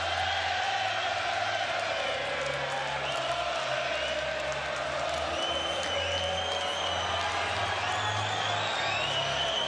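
A packed MMA arena crowd roars and cheers for hometown fighters at a Bellator event, a sustained loud wall of applause and shouting with occasional whoops rising above it throughout.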